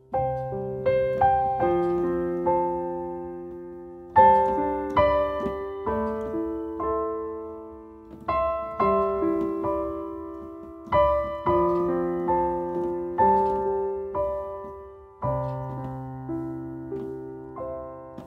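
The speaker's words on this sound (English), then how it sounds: "If I add a little bit of space between the notes," Worship-style piano chords, the right hand holding one chord with small gaps between repeated notes, played alone in a steady, moderately loud pattern with sustained tones ringing between attacks.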